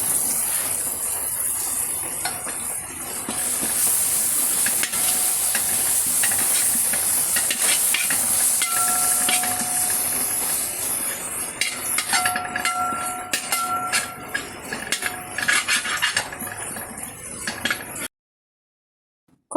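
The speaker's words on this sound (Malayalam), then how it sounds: "നന്നായിട്ട് വഴറ്റിയെടുക്കുക." Masala paste of Kashmiri chilli, turmeric and coriander sautéing in a pan for a Kerala wedding-style fish curry, a steady sizzle with repeated scraping and stirring strokes, nearby and continuous, ending abruptly in silence.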